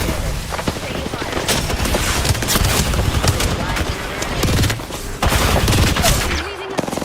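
Video game gunfire: rapid bursts of shots crackle over one another in dense, loud volleys, broken by a few brief lulls, with a voice talking in between.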